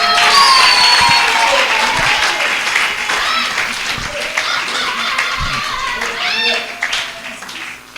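A church congregation applauding during a wedding blessing service, a dense, lively burst of clapping from a crowd that gradually thins out, with voices mingled in.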